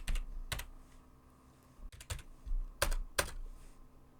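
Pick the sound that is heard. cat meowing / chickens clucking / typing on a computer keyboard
typing on a computer keyboard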